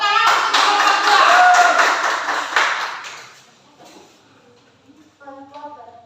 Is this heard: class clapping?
yes